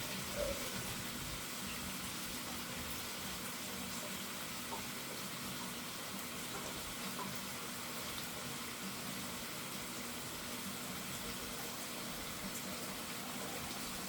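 Water from a pot of boiled pasta shells pours and gushes steadily into a sink drain, a continuous broadband rush that stays even and close for the whole stretch with no talk.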